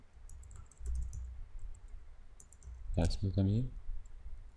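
Code is typed on a computer keyboard in quick bursts of light, quiet clicks. Someone speaks briefly in the middle.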